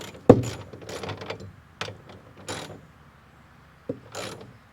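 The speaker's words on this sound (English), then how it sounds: "And then we'll get some wrenches on here and tighten her down." Wrenches tighten E-track tie-down hardware for a UTV, heard as a few separate sharp metallic clanks and ratchety clicks close by with quiet gaps between them.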